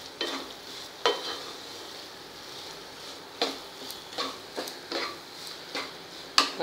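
Sweet filling for steamed ukdiche modak being mixed and roasted in a pan, with a faint low sizzle under a series of distinct scraping and tapping strokes of the spoon at irregular intervals, no voices.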